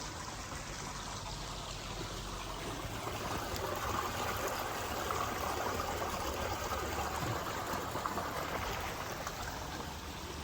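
Hot spring water flows down from the mountain at Nakhal Hot Spring in Al Batinah, Oman, a steady close stream and trickle that runs unbroken and evenly loud throughout, with no voices.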